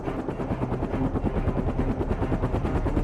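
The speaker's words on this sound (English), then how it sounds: "So the helicopters we use, they're called MD-500s" A small single-turbine MD-500 helicopter flies overhead, its rotor beating fast and loud with a steady chop and a droning engine beneath.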